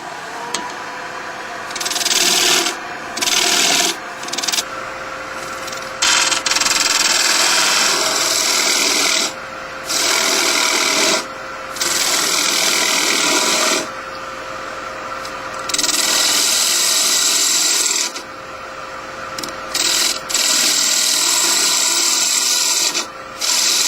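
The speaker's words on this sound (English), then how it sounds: "what I use is a 3/8 inch detail gouge with a Ellsworth grind on it" Wood bowl turning on a lathe with a 3/8 inch detail gouge with an Ellsworth grind: loud, close scraping cuts come in repeated bursts separated by short pauses, with no voices.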